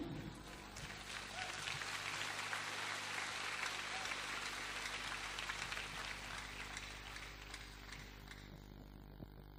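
Sustained audience applause fills a large hall during a sermon at a Cotonou, Benin church gathering, a steady dense clapping wash that holds fairly evenly throughout with faint talk in the background.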